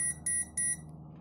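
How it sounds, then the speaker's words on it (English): Three quick high-pitched electronic beeps in an even rhythm over a low steady hum, close and clear, from a 5.25-inch PC five-channel fan controller with LCD touchscreen. "And start"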